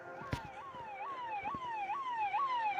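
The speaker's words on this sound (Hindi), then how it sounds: "उन चारों को पुलिस के सायरन की आवाज सुनाई दी" A police siren wails in repeated rising sweeps, somewhat distant, with a sharp knock near the start.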